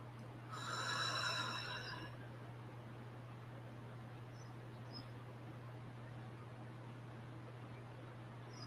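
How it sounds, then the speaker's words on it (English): A deep, slow inhalation during a guided meditation, a soft airy breath rising for about a second and a half near the start, then fading into quiet room hiss with a steady low hum underneath. "And just breathe that in."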